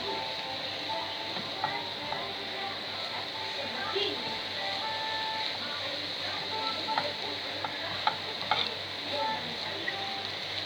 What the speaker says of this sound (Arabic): طبعا ما بسيبش ايديا، بقعد اقلب